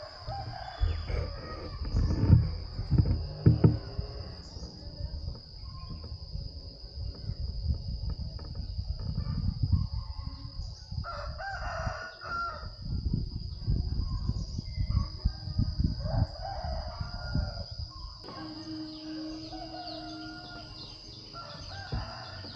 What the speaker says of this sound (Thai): พวกเสียงไก่นี่เต็มไปหมดเลยนะครับ